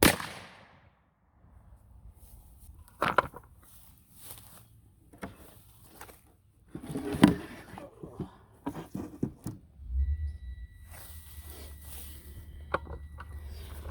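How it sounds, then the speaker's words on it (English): A muzzleloader fires an Alco .452 300-grain precision smokeless bullet, giving a sharp, fairly distant crack with a low thump amid scattered outdoor clatter and rustling. "Alco bullet on the left, and firing"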